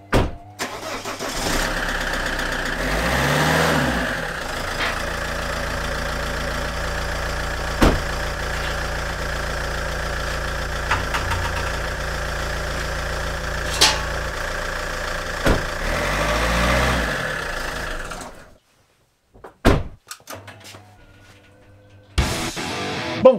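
An Alfa Romeo car engine starts and idles steadily at close range, revving briefly near the start and end before cutting off, followed by a few clunks.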